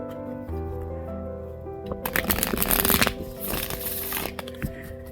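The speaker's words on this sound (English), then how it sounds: "first shuffle with these two decks combined" Two combined tarot card decks, including Curious Creatures, being shuffled close up, with soft riffling bursts and card slaps over a faint background of tones.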